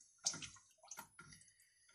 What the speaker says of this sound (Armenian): ջուր ենք ավելացնում